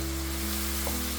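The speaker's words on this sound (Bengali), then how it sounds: "আমি এখন ভালোভাবে স্পাইসগুলি" Ground cumin, coriander and chili powder frying in a pan: a brief, steady, dense sizzle with a constant low hum underneath and no talking.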